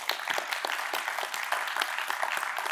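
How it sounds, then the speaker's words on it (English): An audience at a speech event breaks into applause, with many hands clapping in a dense, moderately quiet patter that stays steady throughout. "Give him a round of applause."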